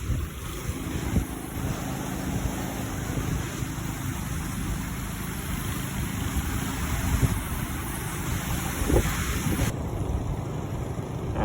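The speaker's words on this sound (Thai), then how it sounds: "เวลาน้ำไหลนะครับซึ่งตอนนี้ ทางเขื่อนน่าจะเปิดไว้เต็มแล้วนะครับ เปิดเต็มที่เลยนะครับ" Water pours through the fully opened gates of a dam near Yasothon, a continuous loud rushing roar. Wind buffets the microphone over it, and no voices are heard.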